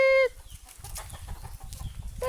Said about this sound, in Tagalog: Narito po pala alagaan ko ng manok mga kabukid